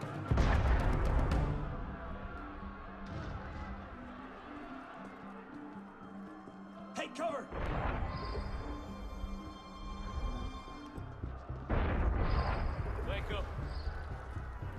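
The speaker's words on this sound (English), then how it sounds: "That was cannon fire." Several loud, booming blasts of cannon fire in Assassin's Creed Unity ring out at intervals amid voices and a busy battle din.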